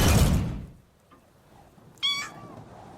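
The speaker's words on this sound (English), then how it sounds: "There, Kitty. Do be quiet" A cat gives a single clear meow near the end, after a burst of wind-like noise and a short quiet stretch, with no talking.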